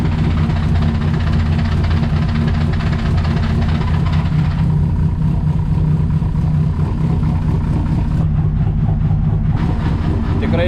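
An Opel Corsa engine idling up close, loud and steady with a continuous low rumble and no talk.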